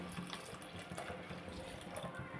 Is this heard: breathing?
no